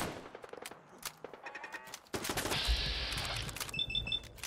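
In Fallout 4, a turret opens up midway with a loud, sustained burst of rapid automatic fire after quieter clicks and game sounds.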